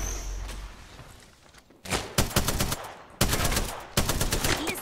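Bursts of automatic gunfire in the Apex Legends shooter, loud rapid volleys separated by short pauses, with a quieter stretch of distant shots before them.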